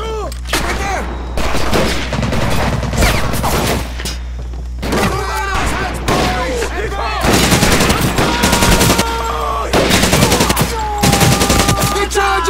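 Heavy gunfire from rifles and machine guns in the World War II shooter Medal of Honor: Pacific Assault, set at Pearl Harbor, with loud sustained bursts and booming impacts and shouted voices mixed into the battle.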